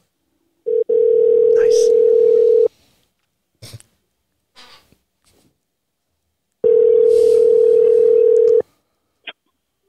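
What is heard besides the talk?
telephone ringing on an outgoing call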